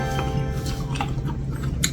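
Someone bites into and chews crunchy guava from a mixed fruit snack, with a few close, moist crunches over two seconds.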